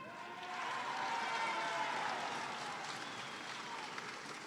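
Audience at a Peruvian presidential ceremony handing out property titles gives steady, fairly distant applause, swelling then tapering over several seconds.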